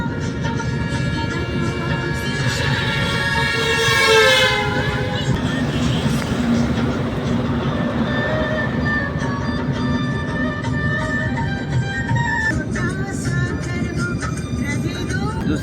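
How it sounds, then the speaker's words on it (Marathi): A train runs along a new railway line, a loud, steady rumble with a rising horn sounding near the start, while people talk over it throughout. "तिथून चालला रेल्वे चालू"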